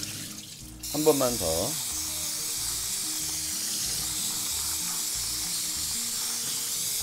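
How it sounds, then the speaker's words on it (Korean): Tap water runs steadily over button mushrooms being quickly rinsed in a kitchen sink, a constant loud rush, with a brief spoken phrase near the start. "빨리 이렇게 헹구셔갖고요"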